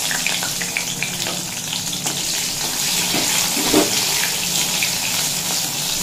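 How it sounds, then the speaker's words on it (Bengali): Chopped tomatoes fry in a pan with dried chilli and radhuni, making a continuous close sizzle with a few soft stirring clatters and no talking. "টমেটোটা বেশ নরম হয়ে যাওয়া পর্যন্ত ভেজে নেব।"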